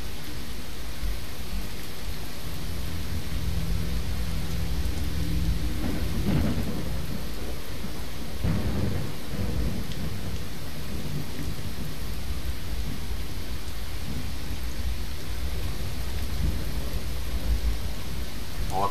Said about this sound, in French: Ça c'est de l'orage.